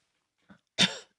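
A single sharp cough from a commentator in a studio, preceded by a small throat catch, close and clear against silence.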